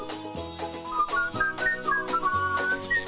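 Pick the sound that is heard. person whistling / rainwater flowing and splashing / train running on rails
person whistling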